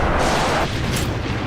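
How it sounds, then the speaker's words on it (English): Dense, continuous rumble of wartime gunfire and explosions in a combat zone in Iraq, a muffled wall of booms and bursts heard from a distance with no clear separate shots. "Donk and Billy Bob can hear the gunshots and explosions in the background of Coke's transmission."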